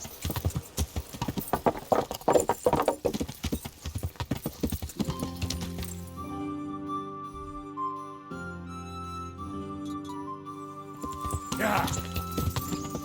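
Rhythmic clip-clop of horse hooves while riding in the video game Kingdom Come, steady trotting under game music and occasional talk, the hoofbeats fading as sustained musical tones take over partway through.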